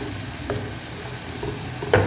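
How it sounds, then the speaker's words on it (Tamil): French fries frying in hot oil give off a continuous soft sizzle and bubble, fairly quiet and steady, with a couple of faint clicks of stirring. "ஃப்ரை ஆகிட்டுருக்கு பாருங்க ஸோ பாருங்கள் நண்பா நல்லா ஃப்ரை ஆகிட்டுருக்கு"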